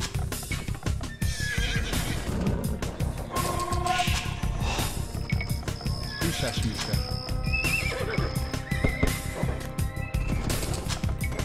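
Horse neighs and clip-clopping hooves from the Age of Empires 2 HD strategy game, with Viking cavalry being gathered on an Arabia map. The whinnies repeat over a busy, loud mix of game sounds and music.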